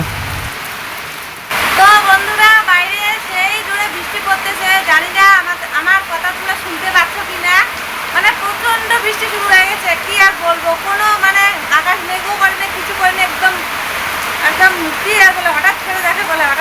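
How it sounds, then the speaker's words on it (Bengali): Heavy rain falls in a dense, steady wash that starts abruptly and carries on under close, continuous talk from a person nearby. "ওদিকে বৃষ্টি পড়ছে"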